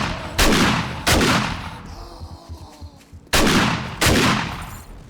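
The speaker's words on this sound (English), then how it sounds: "I can't hear you over the sound of my fucking shotgun" Shotgun blasts in the survival game 7 Days to Die, four loud close booms spaced about a second or more apart, each with a ringing decaying tail, and quieter rumbling between the second and third shots.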